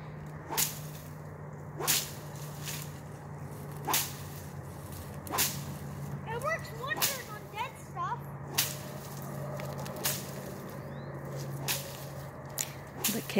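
A stick swung hard through weeds along a creek-side trail in a Nebraska state park gives repeated sharp whooshing swipes, roughly every second or two, close and loud over a steady low hum.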